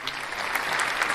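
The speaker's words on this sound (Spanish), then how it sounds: "un aplausito para él." Audience applause fills a brief moment on a Spanish-language show: dense, steady clapping from a crowd, fairly loud and continuous, with no voice on top.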